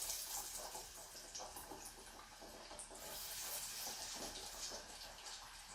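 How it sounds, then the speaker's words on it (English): Chicken fingers frying in a small pot of hot oil, giving a steady, faint, hissing bubble and sizzle that holds without pause and carries no talk. "So we're going to let these fry up for about 5 minutes"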